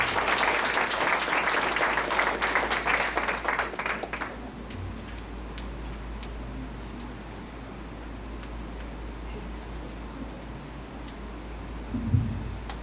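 A burst of audience applause, many hands clapping at once, fading after a few seconds into a quiet room with faint scattered noise.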